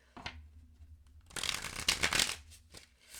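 Tarot cards shuffled by hand in a few riffling bursts, a soft flick early on, then a dense louder riffle in the middle and a quieter tap near the end, close and with no talking.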